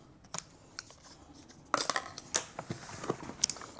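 Packaging being cut open while unboxing an XD Design Bobby Soft anti-theft backpack, a quiet rustle followed by a run of sharp scissor snips and plastic crackles close to the mic, with no talking.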